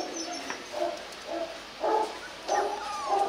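Twenty-day-old Rottweiler puppies play together, letting out several short, squeaky growls and yips in uneven bursts, close by and fairly quiet, with no talking.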